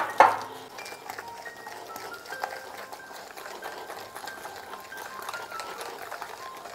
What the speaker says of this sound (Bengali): জলটা একটু একটু করেই মেশাবেন আর এইভাবে ফেটিয়ে যাবেন